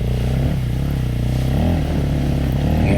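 A KTM 500 four-stroke dirt bike climbing a trail in Palisades, Idaho, its engine loud and near with a steady, throaty thump that wavers as the throttle shifts.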